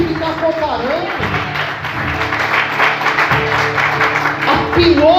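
A church congregation applauds during a pastor's sermon, a broad wash of clapping that rises and swells over several seconds while voices and a singing tone carry on above it.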